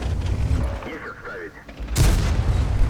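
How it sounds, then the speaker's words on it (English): A Bat-Châtillon tank's main gun goes off in World of Tanks, one sharp, heavy boom arriving late after quieter engine and battle rumble. "No, it looks like the bat chat just fired again."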